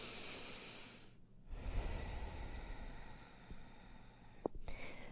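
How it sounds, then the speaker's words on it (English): Slow, deep yoga breaths: a long hissing exhale, a pause, then another drawn-out breath, close and soft with light airy noise. "Two more rounds of breath here."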